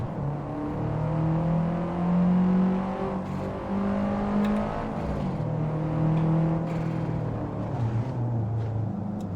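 A Subaru WRX with all-wheel drive pulls hard with the pedal floored, its engine note rising and falling through gears in a steady interior drone, no talk over it.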